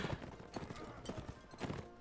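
Horses gallop in the medieval combat game Mount and Blade: Warband, a busy run of hoof clip-clops thudding close and steady for about two seconds, with faint voices mixed in.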